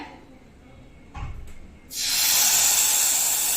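Achu murukku batter hits hot oil with a sudden loud, sustained frying hiss that starts after a quiet stretch and a soft thump, then holds steady and close.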